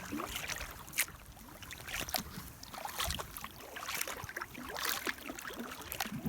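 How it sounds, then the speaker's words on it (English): A paddle dips and splashes on a cold pond at Moose Pond in Saint Armand, NY, with close, repeated watery strokes and drips over a soft outdoor hiss. "Paddling real good there, Coco."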